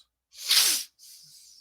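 A single sharp, breathy sneeze bursts out close to the microphone, followed by a short pause and a softer hissing exhale.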